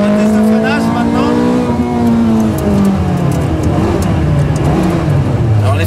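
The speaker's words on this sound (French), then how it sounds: "On va faire un test de freinage maintenant." A Ferrari F430 Scuderia with ceramic brakes loudly decelerates under hard braking, its engine note dropping in steps through downshifts from a high whine to a low drone, with speech over the engine.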